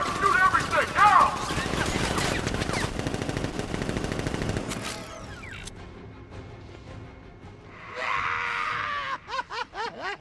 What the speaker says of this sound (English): George, open fire! Shoot everything, now!